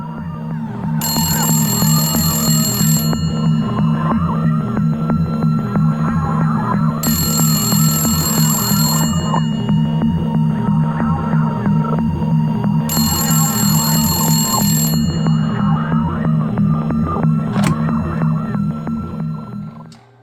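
Telephone bell ringing in three loud bursts at a steady interval, over a constant low hum throughout, with a brief tone near the end, no voices.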